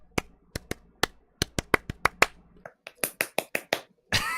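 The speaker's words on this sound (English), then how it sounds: "as a reward, I'll give you a fancy clap." A video game character performs a fancy clap: a quick run of about a dozen sharp, crisp claps or snaps in an uneven rhythm, ending in a brief rushing burst.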